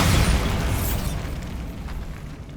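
A Bombarda spell blasts in Hogwarts Legacy, a loud, deep explosive boom that hits at once and rolls out into a long rumbling decay, heard alone with no voices.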